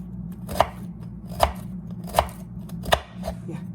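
Knife slicing a halved bitter gourd into thin slices on a board, five crisp chops at a steady, unhurried rhythm, close and clear over a low background hum.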